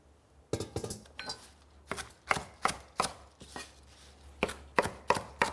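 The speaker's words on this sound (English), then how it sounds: "we're just going to give that a rough chop and put it into our food processor" A knife rough-chops herbs for pesto on a cutting board, a dozen or so sharp, close knocks in an uneven rhythm with short pauses between runs.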